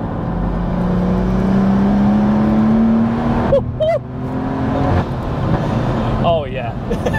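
A 700 BHP manual BMW M140i accelerates hard, its engine note rising steadily through the revs, dipping at a short shift, then climbing again as voices talk over the loud cabin roar.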